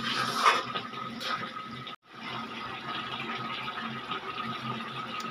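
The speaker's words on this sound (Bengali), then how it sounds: "আমি ঢাকা উঠিয়ে এর মধ্যে দিয়ে দিয়েছি গরম জল আর ধনেপাতা এবং কাঁচা লঙ্কা" Hot water poured into a covered pot of boiled peas with coriander leaves and green chillies, a steady close rushing splash that briefly cuts out and resumes, with no talking.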